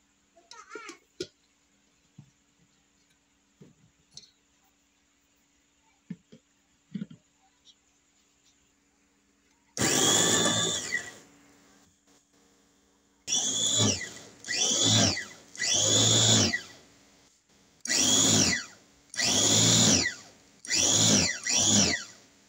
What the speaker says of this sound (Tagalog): Lagyan na natin sa blender.